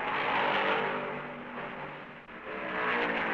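Stock car engines roaring at the 1970 Darlington Southern 500, a loud continuous blur of racing V8s with rising and falling pitch as cars sweep by, dipping briefly before surging again.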